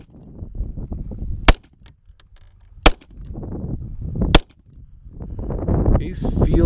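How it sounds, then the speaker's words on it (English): Three sharp, loud pistol shots from a Daniel H9 firing Federal ammunition crack out at spaced intervals outdoors, with wind rumble and faint movement between them and a shooter nearby. "Here we go, let's take a couple shots here."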